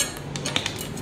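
Metal bolts for assembling a mesh visitor chair clinking together in a hand, several light metallic taps and jingles over a faint background hiss, close and brief.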